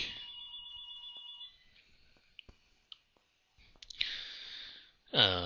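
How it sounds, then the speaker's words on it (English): A telephone rings in a quiet room with a high electronic trill, followed by clicks and handling noise and a second louder burst of ringing at the end. "the phone rang"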